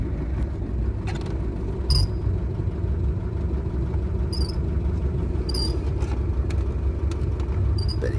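A Chevrolet Caravan car engine idling steadily, a continuous low rumble heard from close by for the whole stretch, with a few faint high chirps and clicks over it.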